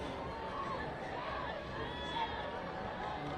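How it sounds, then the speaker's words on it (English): Spectators packed along bridges at the Head of the Charles rowing regatta, a faint, distant murmur of crowd chatter and scattered cheers, steady and low throughout. "you can hear the crowd in the background"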